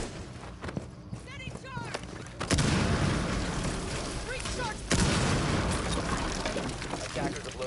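Explosive charge blasting through a barricade in a competitive team shooter match, two loud broadband bursts that each sustain into rumbling debris noise, under game effects and commentator chatter.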